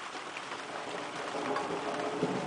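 Steady rain falling outdoors, a dense even hiss of drops pattering on surfaces that holds constant throughout, close and continuous with no voices.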